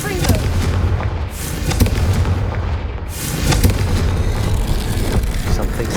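A Confringo fire spell explodes in a Harry Potter–style video game, heavy booming blasts rolling continuously across the clip amid dense game noise and a low rumbling bed, loud and close throughout.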